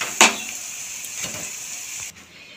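Drumstick flower fritters frying in hot oil, a steady, faint sizzle with a sharp clink of a utensil near the start.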